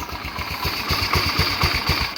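A scooter engine idles steadily and close by, its low, even pulsing running smoothly throughout with no talk over it.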